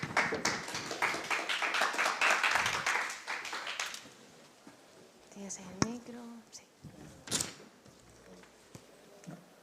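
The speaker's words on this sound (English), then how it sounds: "a big applause for them, please." Applause from the audience at an onsite startup pitch competition, a burst of clapping for about four seconds that fades into scattered taps, light bumps and speech in the room.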